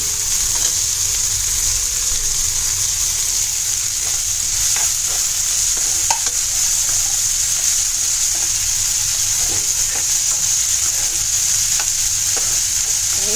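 Tomatoes, onion, curry leaves and green chili sauté in a pan over medium-high heat for a fish-head kheema masala. A steady, loud sizzle runs throughout, broken by scattered scraping clicks of stirring.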